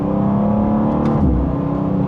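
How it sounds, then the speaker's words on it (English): A 2025 BMW M2 accelerates hard, its engine note a steady, loud, close-up roar that holds strong throughout, with no talking over it. "We'll do one more acceleration."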